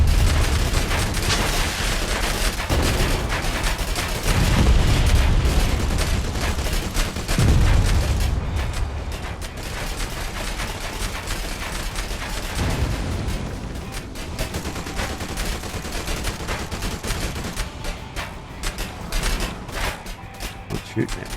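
Turret gunfire in the post-apocalyptic trucking video game Deadland Delivery, a dense, sustained barrage of rapid shots and booms with mechanical rumble, loud and continuous, with someone talking over parts of it.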